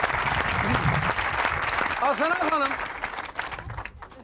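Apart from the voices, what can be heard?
studio audience applauding the orchestra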